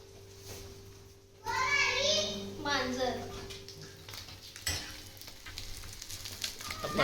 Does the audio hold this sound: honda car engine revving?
no